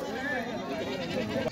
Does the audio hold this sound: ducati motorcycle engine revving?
no